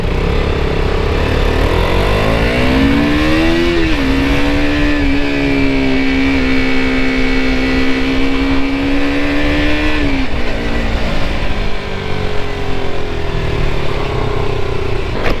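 A KTM RC 200 motorcycle engine revs up to a high, steady whine that holds for several seconds, then falls back to a rough idle, loud and close with no talk.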